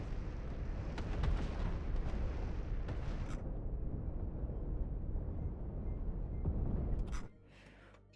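Spaceship cannons fire in the space combat game Cosmoteer, a dense run of booming blasts and rumbling impacts lasting about seven seconds before cutting off abruptly to quiet, with no talking.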